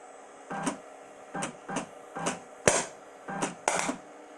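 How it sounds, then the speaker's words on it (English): A homemade CNC EDM machine throws sparks in sharp, crackling bursts, about eight irregular snaps spaced roughly half a second apart over a quiet electrical hum, close by. "Those sparks are violent."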